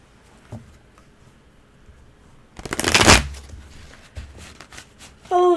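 A deck of tarot cards is shuffled and bent, with faint rustles followed by a loud riffling burst and some quieter card flicks afterward, close by with no speech.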